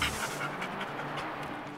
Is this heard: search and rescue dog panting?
yes